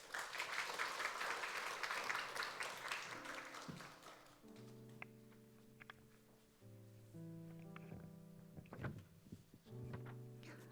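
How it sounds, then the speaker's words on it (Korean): A church congregation claps in welcome for a forum speaker, a dense round of applause lasting about four seconds before fading under sustained, steady chords of music that continue to the end. "박수로 맞아주세요."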